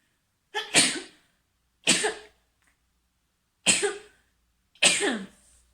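A woman sneezes four separate times at home, each sneeze a sharp, close burst followed by a brief fading rasp, spaced by short silences and with no talking.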